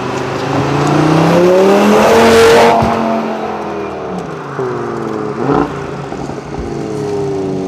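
An Audi RS3 with all-wheel drive launches hard, its engine roaring loudly and rising through the revs, then shifting and pulling on as the car accelerates away.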